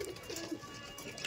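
Pigeons coo softly in a loft, a faint brief murmur of low throaty calls against background noise.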